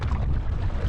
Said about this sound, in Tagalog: Lakas na yung simoy ng hangin.